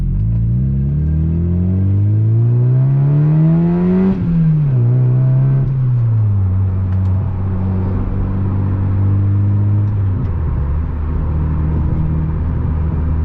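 A Mazda MX-5 NB engine revs up and booms through a tunnel, its note climbing, dropping through gear changes, then settling into a steady drone heard from inside the car.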